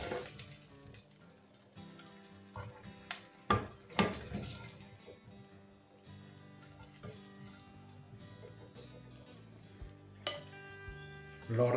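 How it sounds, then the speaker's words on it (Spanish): Chicken pieces frying in a pan over high heat for fajitas, a steady sizzle with occasional louder bursts and clatter of stirring, close and fairly loud throughout, with a faint tap-water sound near the end. "Y lo sofreímos, y lo freímos bien de doradito."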